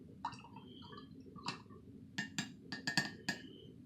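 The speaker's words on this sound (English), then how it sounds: "I use chopsticks as my stir sticks." A chopstick stirs creamer into a cup of coffee, making a quick run of light, bright clinks and taps against the cup's sides, with a few scattered ticks before the stirring picks up.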